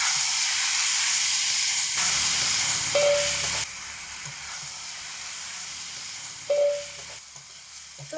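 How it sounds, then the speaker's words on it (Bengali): Pieces of goat meat sizzling as they are added to fried onions in hot oil, a loud, broad hiss that drops back to a softer frying crackle, with a few brief stirring clinks. "এখানে কেটে রাখা পিস করা মাংসের পিসগুলোকে ঢেলে দিচ্ছি"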